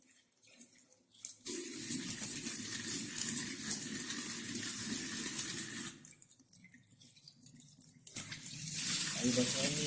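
Tap water pours loudly into a pot while rice is washed, running in bursts with brief pauses and splashy swirls, with a voice speaking faintly in the background.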